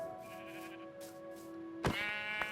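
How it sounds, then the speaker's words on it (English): A gray sheep in Minecraft bleats once, loud and close, after a few seconds of a quiet sustained tone in the background. "So that's a gray sheep or so."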